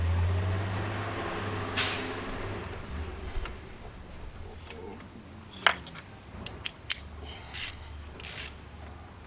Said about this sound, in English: Tighten them both up.